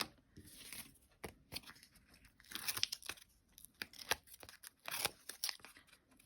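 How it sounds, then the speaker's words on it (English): Backing is peeled from Sukwang tear tape on a handmade birthday card, making a series of short, close crackling rips and crinkles in irregular bursts with quiet gaps between them. "I have two of these different types of tear tapes, and this one that says this Sukwang actually comes off really well."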